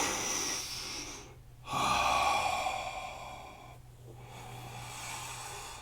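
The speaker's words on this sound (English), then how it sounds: "Do really deep breathing here." Slow, deep yoga breaths drawn in and pushed out as long, airy sighs, close and clear, with a pause between breaths and no talking.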